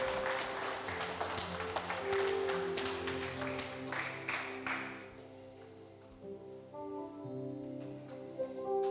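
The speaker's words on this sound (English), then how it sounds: "Let's give a clap for Jesus." A church congregation at an Auckland revival meeting claps together for several seconds, dense applause that fades out as sustained organ or keyboard chords carry on underneath.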